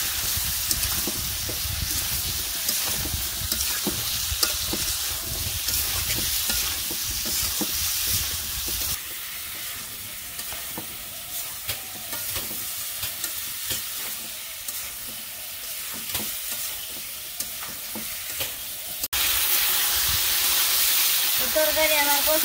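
Fish curry with salt, turmeric, chili powder and green chilies sizzles steadily in a pan while being stirred, with continuous frying hiss and occasional scraping, close and fairly loud throughout.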